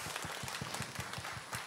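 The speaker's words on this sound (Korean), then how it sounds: "박수 한번 부탁드리겠습니다" Audience at a talk concert claps briefly, a faint, fairly even patter of hands heard from a distance with no talk over it.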